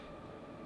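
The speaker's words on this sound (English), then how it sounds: "that's a train that I have outside." A train passes outside an open window, a continuous low rumble and rolling rail noise heard steadily from indoors, fairly faint, with no talk over it.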